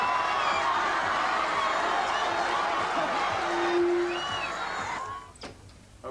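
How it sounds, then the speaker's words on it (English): A studio audience at a 1988 Grange Hill behind-the-scenes event cheers and applauds for Freddie with dense, sustained crowd noise and high screams. The noise thins out and fades near the end. "give him a warm round of applause"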